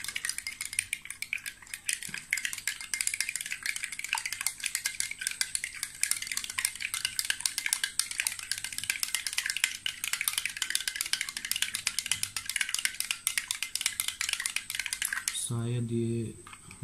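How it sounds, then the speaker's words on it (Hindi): A spoon stirring neem and gotukola face wash in a small container, a fast continuous clinking and scraping, close and steady for most of the time, ending with a brief ringing tap. "अभी दूसरे ब्रांड को भी हम लोग स्टीर कर लेते हैं ताकि अच्छे से मिल जाए"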